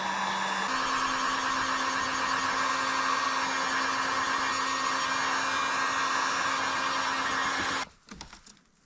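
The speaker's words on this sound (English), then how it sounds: "Plus you can heat your hands with the air gun." A hot air gun blows steadily and close, a loud continuous whoosh with a faint steady hum, used while cutting and stacking firewood; it cuts off near the end, leaving brief handling noises.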